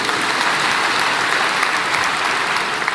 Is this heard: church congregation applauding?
yes